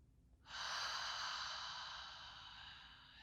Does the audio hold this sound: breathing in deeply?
yes